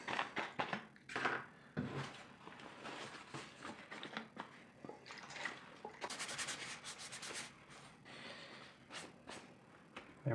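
Steady close rubbing and wiping with rubbing alcohol across a helmet surface, continuous soft friction with small bumps and handling knocks.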